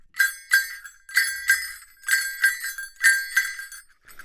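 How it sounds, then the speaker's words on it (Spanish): A cascahuilla, four small jingle bells joined together, is shaken in short, rhythmic bursts, bright metallic tinkling repeated about ten times with brief gaps between. "te voy a presentar este otro instrumento que se llama cascahuilla y suena así."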